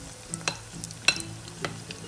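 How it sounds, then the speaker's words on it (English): Quiet bubbling sizzle of akara bean batter frying in hot oil, with a few soft clinks and taps rising over the steady crackle. "the oil should sizzle and the batter should float"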